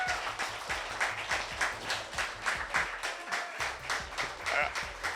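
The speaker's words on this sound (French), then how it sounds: "S'il vous plaît, une très grande main d'applaudissements pour Georges Mihalka." A crowd at a horror expo applauds in a steady, moderately loud wave of clapping, with a low rhythmic thumping and some voices underneath.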